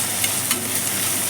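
Broken dried red chillies sizzle in hot oil, a brief, steady close-up crackle with a couple of small pops, no voices over it.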